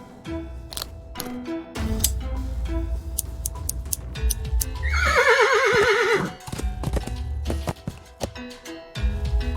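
A horse in the adventure game Willy Morgan and the Curse of Bone Town lets out a loud, wavering whinny midway, with clip-clop hoof steps and small ticking clicks scattered around it and no talk.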